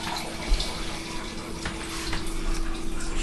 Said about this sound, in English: I'm going to go and get another little bit of water, and I'm going to pour it over the top of that roast